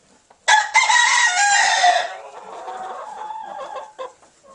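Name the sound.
hens clucking in a chicken coop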